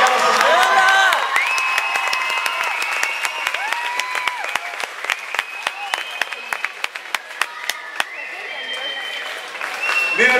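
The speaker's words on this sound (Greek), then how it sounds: "δώστε ένα χειροκρότημα" A large audience claps loudly and steadily, with scattered cheers and whoops, at a Greek karate championship final in 2011, men's kumite under 67 kg. The dense applause fills the whole stretch and swells again at the end.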